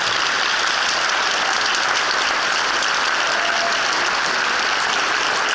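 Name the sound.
audience applause at award ceremony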